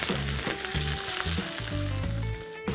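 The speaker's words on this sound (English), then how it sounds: "Oil is hot. I'm going to add in the mustard," Mustard seeds and curry leaves sizzle and crackle in hot oil, a loud, close frying hiss with scattered pops throughout.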